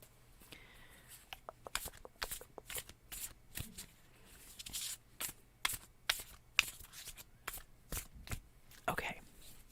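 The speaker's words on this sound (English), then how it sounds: "I have to shuffle the cards again a little bit more." A deck of cards is shuffled close up in a quiet ASMR setting, with repeated crisp riffling and flicking bursts in an uneven rhythm throughout.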